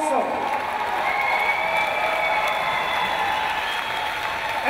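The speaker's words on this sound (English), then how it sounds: "give these guys a round of applause" A crowd applauds at a boxing or combat-sports event between rounds and decision, steady dense clapping throughout with a whistle-like tone riding over it.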